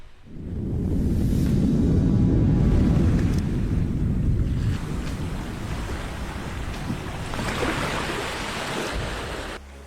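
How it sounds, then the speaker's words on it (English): Flash flood tearing through Wahweap Wash, Utah, carrying pine cones: a heavy, continuous roar of rushing water with wind buffeting, loudest at first and then settling into a steady churning rush. "captured a furious flash flood roaring through Wahweap Wash, Utah, carrying countless pine cones from a mountain peak 25 miles away"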